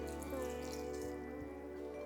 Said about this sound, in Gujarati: સારી રીતે હવે ચોખ્ખા પાણીથી ધોયા બાદ